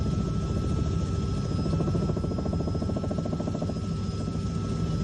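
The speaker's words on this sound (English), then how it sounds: "I'm just telling you, it's a chopper." A helicopter drones steadily with a low, rapid rotor throb and a continuous engine hum, holding an even level for about five seconds with no talk over it.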